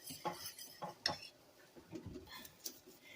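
Utensils stir a sauce in a pan for chicken Francese, making faint, scattered clinks and scrapes in irregular bursts, quiet and close, with no voices.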